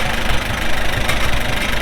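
A Farmall M tractor engine idles steadily and loudly up close, a rough, even mid-pitched rumble with a faint knocking pulse, no voices over it.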